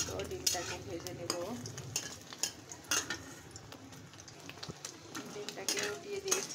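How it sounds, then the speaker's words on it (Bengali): An egg fries in hot oil in a pan, soft sizzling broken by repeated scraping and clinks of a spatula stirring against the pan, fairly quiet, no talking. "এখন সুন্দর মতো ডিমটাকে ভেজে নেব।"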